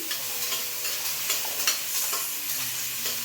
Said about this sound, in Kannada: ಈರುಳ್ಳಿ ಹುರ್ಕೊತಾ ಇದ್ದಾರಮ್ಮ ಈಗ ಎಣ್ಣೆನಲ್ಲೇ